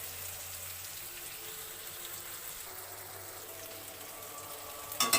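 Chicken frying in a pan for Bengali chilli chicken, a steady, soft hiss and sizzle that holds evenly throughout, with a brief clatter right at the end.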